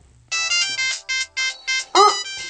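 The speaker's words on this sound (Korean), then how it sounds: "전화 왔다." A phone ringtone plays as a series of bright, repeated melodic bursts, loud and close, in a Korean comedy sketch set on a honeymoon's first night, with a brief higher warbling tone near the end.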